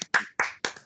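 A few distinct hand claps from an audience in a classroom hall, four or five crisp, close claps in quick succession, with no speech over them.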